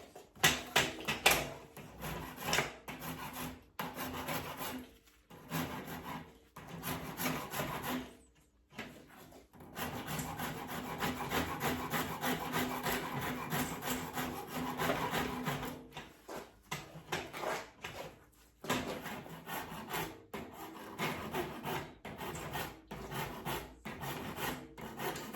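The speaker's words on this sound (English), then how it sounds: "So if I rasp away here and bring down the line" A hand rasp files and shapes the wood of an Irish walking stick in steady back-and-forth strokes, a close, coarse scraping that runs in bursts with short pauses between passes.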